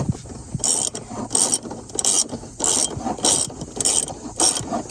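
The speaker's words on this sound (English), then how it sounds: "we're going to take our deep socket ratchet 7/8 inch or 22 metric, and we are going to start tightening" A deep socket ratchet, 7/8 inch or 22 mm, tightens a filter barrel nut with evenly spaced bursts of sharp ratcheting clicks repeating about every half second, close and loud with no speech.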